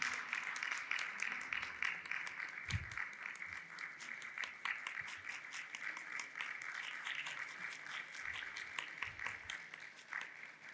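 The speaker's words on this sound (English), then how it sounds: "Please give him a big round of applause" A symposium audience on a kidney transplant program claps steadily for a guest, a dense, sustained round of applause from a large hall crowd lasting several seconds, with a few scattered louder claps.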